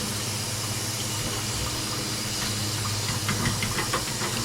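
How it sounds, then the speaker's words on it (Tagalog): Water coming to a boil in a pot on a home stove while cooking, giving a continuous hiss and bubbling rush that stays steady, with a few faint clinks near the end and no talking. "At kumukulo na nga."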